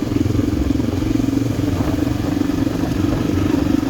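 A manual-clutch motorcycle being ridden on a road in Laos, its engine droning steadily and close throughout with a constant low rumble and some rattling clatter, no voices.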